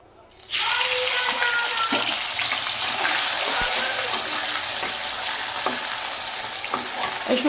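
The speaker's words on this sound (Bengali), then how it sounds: "তো আমি প্রথমেই শুটকিটা তেলে দিয়ে দিই।" Washed, still-wet dried fish (shutki) dropped into hot oil, a sudden burst of loud, dense sizzling and crackling that stays steady and close after an initial quiet moment.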